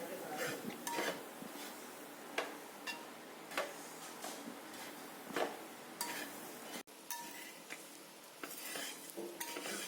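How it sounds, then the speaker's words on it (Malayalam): A metal spoon scrapes and taps against a pan as chammanthi powder is stirred and roasted. The clinks come in a fairly regular rhythm, close and moderately loud over a faint sizzle. "നമ്മൾ ഒരുപാട് നേരം ഇത് ഇളക്കി കൊണ്ടുവന്ന് അടി പിടിക്കാതെ ഇളക്കി അത് വറുത്തെടുക്കണം"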